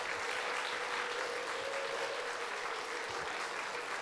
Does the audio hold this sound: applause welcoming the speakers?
yes